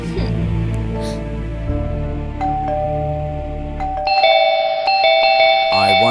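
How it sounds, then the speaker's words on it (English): An electronic doorbell chimes loudly, a sequence of ringing tones over a low humming background, with a second melodic ring near the end. "I wonder who's ringing the bell."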